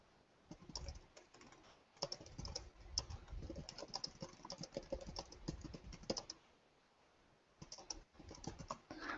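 Keys on a computer keyboard clatter quietly in quick, uneven bursts of typing with a brief pause near the end before the tapping resumes, heard close with no speech.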